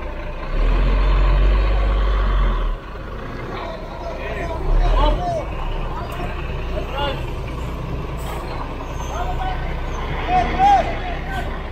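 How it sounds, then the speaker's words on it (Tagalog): A municipal clearing-operation truck maneuvers along Dagupan Street, its engine rumbling steadily with a brief hiss of air brakes and street bustle around it, under continuous nearby traffic noise. "Magmamaniobra lang ang ating truck."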